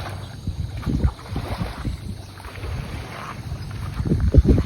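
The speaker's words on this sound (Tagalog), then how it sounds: "Mas marami pala dito dumadaan na bangka." Boat engines rumble past on open water near Canimog Island, rising and fading in low bursts, with wind buffeting the microphone.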